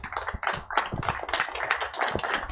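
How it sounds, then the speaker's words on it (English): A live audience claps for four speakers after an Ignite talks session at Liverpool MakeFest 2019, producing a loose, uneven patter of hand claps. The sound is moderately close and steady for a few seconds. "A round of applause for them."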